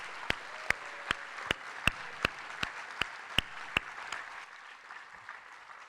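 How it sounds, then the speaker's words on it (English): Applause at a university awards ceremony in Hawaii, a soft, distant crowd wash with a steady series of about eleven sharper claps close to the microphone, the clapping thinning out toward the end. "Let's give them a warm hand of applause, a very well-deserved applause."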